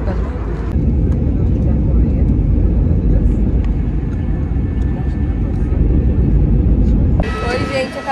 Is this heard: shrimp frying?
no